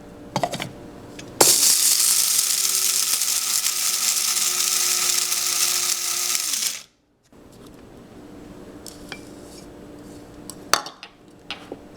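An electric grinder whirs loudly for about five seconds as it grinds a cup of raw ingredients for veggie burgers, then it cuts off and quieter rattling and clinking of the container follow.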